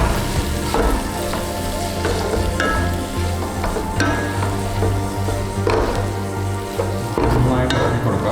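Chicken tikka masala with Kashmiri chili being stirred in a pan: a steady, loud sizzle of frying with scraping spoon strokes and occasional clinks, continuous throughout.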